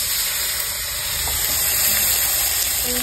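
Nigella seeds, dried red chillies and chopped tomato sizzle in hot oil as a tempering in a rustic Bengali kitchen: a steady, loud, even hiss that carries on unbroken throughout.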